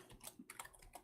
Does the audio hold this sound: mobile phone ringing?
no